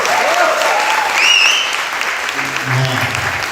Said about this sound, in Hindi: अच्छा, एक बार जोर से ताली बजा दीजिए सिर्फ यीशु के लिए